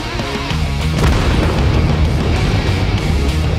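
Tank cannon fire and shell impacts in World of Tanks, a heavy boom at the start followed by a dense rumbling wash of battle noise that stays loud and continuous.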